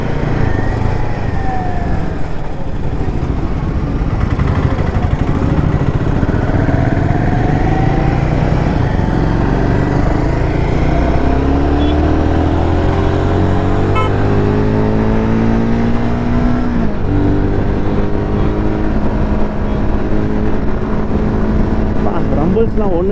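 A Royal Enfield Himalayan 450 on a test ride, its engine rising and falling in pitch through repeated gear changes as it accelerates, steady loud drone with wind, no speech audible over the engine.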